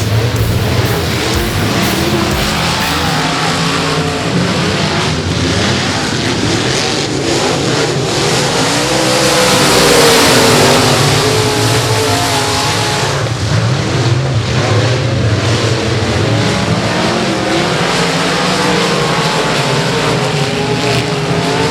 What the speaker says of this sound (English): Wild racing there for second between the 160 of Wayne Barnes and the 4 of Bechet